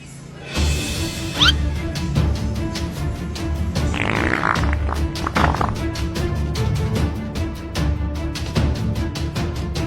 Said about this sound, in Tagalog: Utot na pinasok sa rep